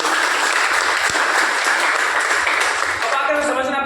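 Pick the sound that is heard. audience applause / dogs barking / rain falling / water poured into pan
audience applause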